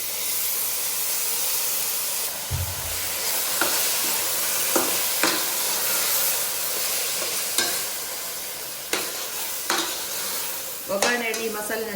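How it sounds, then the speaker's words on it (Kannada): Masala fries for tempering in hot oil for a Yetti Pundi recipe, a steady sizzling hiss broken by scattered stirring clicks and scrapes, with a brighter spattering burst near the end. "ಒಗ್ಗರಣೆ ಈ ಮಸಾಲೆ ಫ್ರೈ ಮಾಡ್ತೀನಿ"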